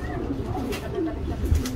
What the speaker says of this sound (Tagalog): Sa pinto siya pumapasok yung ibon na yan.